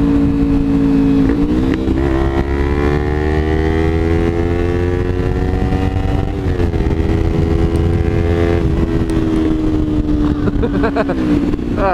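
A car fitted with a new aftermarket exhaust, its loud, continuous engine drone heard up close, with the pitch sliding down and climbing again as the revs shift while driving.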